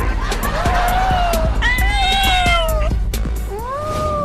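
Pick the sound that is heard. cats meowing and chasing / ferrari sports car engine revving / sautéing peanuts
cats meowing and chasing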